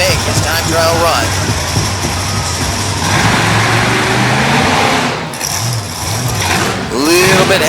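A monster truck engine revs loudly ahead of a time trial run at a Lewisburg, West Virginia event, with rising and falling engine pitch under a commentator's constant talk and crowd noise.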